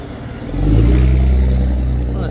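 A 540-horsepower four-wheel-steer tractor pulls away and builds to a steady, loud engine drone as it cruises along a road, with low rumble dominating close by.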